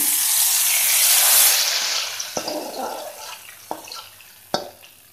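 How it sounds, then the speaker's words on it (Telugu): A loud burst of hot sizzling hisses at once as hot tempering is poured into an eggplant stew, then gradually dies down, with a few sharp clinks of a spoon or pot. "పోపు వేసేసుకుందామండి ఇందులో"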